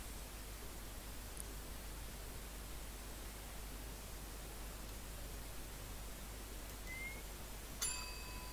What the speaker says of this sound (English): she said ring the bell again, so I guess that's what we're gonna do